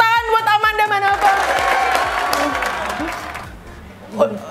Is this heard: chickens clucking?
no